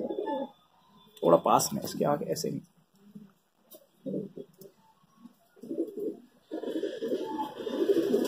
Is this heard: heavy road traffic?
no